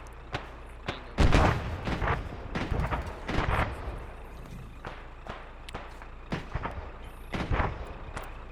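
Frag grenade blast in a tactical military shooter game, a loud broadband boom followed by scattered sharp impacts and gunshot-like cracks amid ongoing combat ambience.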